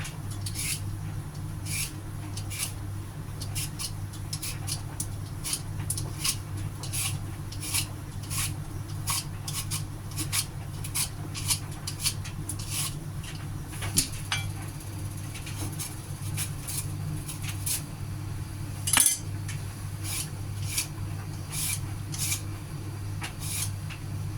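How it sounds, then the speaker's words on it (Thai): Peel being scraped off an ingredient for a Thai pork bone soup with lotus root and chestnuts, a long run of rhythmic raspy strokes at close range over a steady low hum, with a couple of louder knocks. "ก็จะเอาเปลือกออกนะคะขูดเอาเปลือกออกจ้า"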